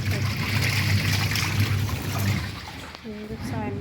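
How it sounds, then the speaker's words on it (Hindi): Clothes being washed by hand in a home bathroom: steady splashing and sloshing water fills most of the stretch, fading near the end as a voice begins speaking. "मम्मी धो रही है बाथरूम में कपड़े।"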